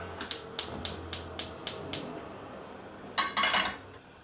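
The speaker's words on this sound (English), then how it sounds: "Turn the gas on, bismillah." A gas stove igniter ticks about eight times in an even, quiet rhythm, then a brief rattling burst follows as the burner catches, with no talking.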